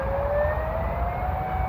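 The Avonmouth monthly test siren wails steadily in the distance, its tone rising slowly under a constant low outdoor rumble.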